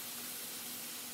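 Seasoned hamburger patties laid on onions sizzle with a soft, steady hiss, quiet and unbroken for a moment.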